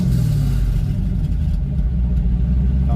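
A 1986 Ford Mustang GT Foxbody V8 revs up loudly up close, then settles back to a steady, rumbling idle, with no voices.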